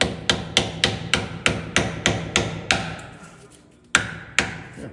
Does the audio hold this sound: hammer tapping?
yes